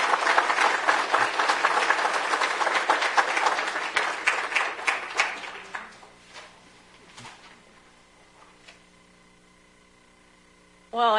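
A forum audience gathered to discuss protecting pollinators from pesticides gives a warm round of applause, a thick burst of clapping that tapers off after about five seconds into scattered claps and quiet room noise.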